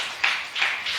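A church congregation applauding, three rhythmic swells of clapping in quick succession, bright and moderately loud with no talk over them.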